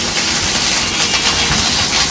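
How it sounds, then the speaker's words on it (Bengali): Ginger is tempered in hot mustard oil in a home kitchen, giving a loud, dense, continuous sizzle close by with no pause across the short stretch. "সর্ষের তেলে মা একটু আদা ফোড়ন দিচ্ছে।"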